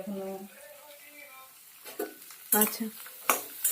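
Carrots, beans, bay leaves and whole garam masala spices fry in a pan, heard as a low sizzle with a few sharp scraping stirs and clinks of a utensil near the end, after a brief spoken word.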